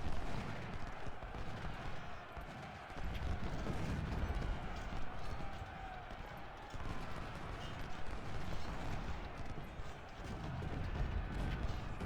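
Cannon fire in Ultimate General: Civil War during the Cold Harbor battle, a dense, continuous rumble of artillery and gunfire blending into a steady battle din with no talk over it.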